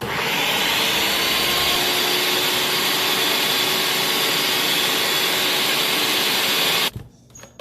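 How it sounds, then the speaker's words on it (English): A blender whirs loudly and steadily for about seven seconds, mixing a Puerto Rican holiday drink with ginger, cinnamon and nutmeg, then cuts off abruptly. "I'm also gonna blend it for a few seconds just to get all those spices nicely blended"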